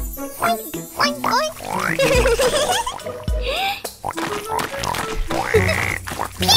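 A singer imitates a pig's oinking and grunting in a preschool nursery-rhyme song, with bouncy backing music and jingles in short, playful bursts.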